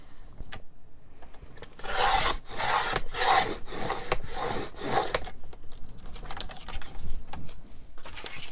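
Paper is cut along a line in steady, rasping strokes. A quick run of crisp scrapes sits in the middle, framed by sparser, softer rubbing sounds. It is close and fairly quiet, with no talking.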